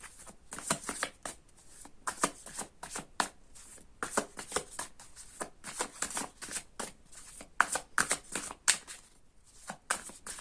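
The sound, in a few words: tarot cards being shuffled and drawn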